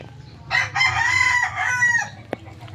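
A young gamecock stag crows once at a game farm, a loud, near, ragged cock-a-doodle-doo over a low background rumble, followed by a brief sharp knock.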